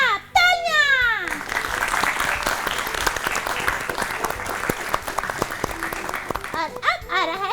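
Applause from a studio audience at a children's health-awareness quiz show after a correct answer, a dense burst of clapping lasting several seconds, with voices and a child's chatter at the start and end.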